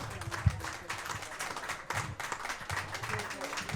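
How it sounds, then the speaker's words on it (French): An audience claps for the women who worked on a community show, in scattered, uneven bursts with a sharp clap near the start, mixed with talk and crowd murmur. "applaudis un coup pour toutes ces madames qui ont travaillé"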